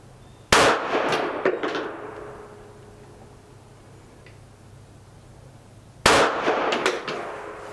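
Two loud, sharp reports from a Canik SFX Rival pistol, each followed by a ringing metallic clang of rounds striking a steel target, the blasts about five seconds apart with quiet range ambience between.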